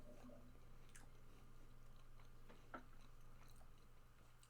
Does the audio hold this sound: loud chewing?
yes